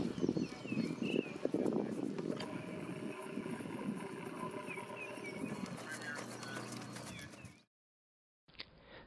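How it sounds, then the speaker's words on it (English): Horses at a Tipperary equestrian show with jumping classes, hooves clip-clopping beneath a voice speaking over a busy outdoor arena background, the sound cutting off briefly near the end. "Jumping horses."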